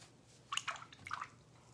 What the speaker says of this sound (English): I'm gonna wash my round brush out really good